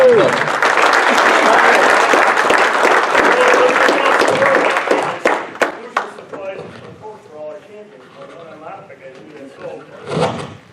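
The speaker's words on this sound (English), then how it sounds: "Big round of applause for him" A banquet audience at a motorsports park applauds the 2017 Outlaw Modified champion, a loud sustained burst that fades after about five seconds into scattered claps, chatter and a few thumps.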